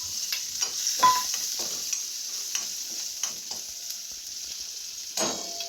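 Asafoetida, chillies and potatoes hit hot oil for sabudana khichdi, giving a quiet sizzle broken by a series of close spatula scrapes and stirs at uneven intervals.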